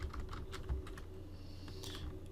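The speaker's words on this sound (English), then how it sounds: "we want to type in expenses" Soft, steady typing on a computer keyboard, with quick key taps in an irregular rhythm over a low background hum, no voices.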